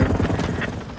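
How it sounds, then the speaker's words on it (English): Helicopter rotor thrum from a chopper gunner killstreak in Modern Warfare 2 multiplayer, a steady loud throbbing drone filling the whole second with no talk over it. "I got a chopper gun up there"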